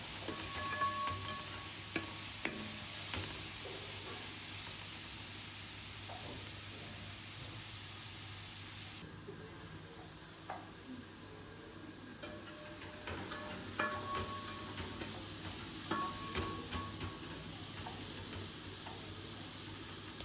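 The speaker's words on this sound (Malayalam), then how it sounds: "നമ്മൾ സവാളയും തക്കാളിയും ചേർത്തിട്ടുണ്ട് ആദ്യം ഇവ രണ്ടും നന്നായിട്ടൊന്ന് വഴറ്റിയെടുക്കാം" Onion and tomato sautéing in a pan with sliced green chillies for a simple curry, giving a steady soft sizzle with occasional stirring clicks throughout, fairly quiet and continuous with no talking.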